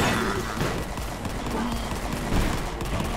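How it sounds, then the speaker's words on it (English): Shotgun blasts fire in quick, overlapping bursts in the video game Forgive Me Father, forming a dense, loud barrage for a few seconds. "God damn, that thing shotguns me."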